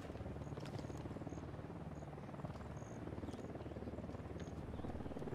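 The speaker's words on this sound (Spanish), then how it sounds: "¡Eh, helicóptero!" Helicopter in the video game Ghost Recon Wildlands, a steady low rotor drone that holds throughout, fairly faint, with no voices over it.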